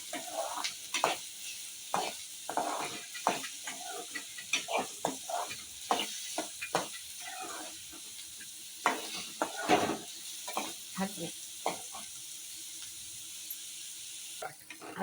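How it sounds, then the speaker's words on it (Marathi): Onion sautéing in a pan for a spicy Malvani-style bangda (mackerel) curry, with irregular scraping and stirring knocks and a soft sizzle running underneath, fairly close and moderate in level throughout. "कांदा परतून घेते कांदा थोडा लाल झाला"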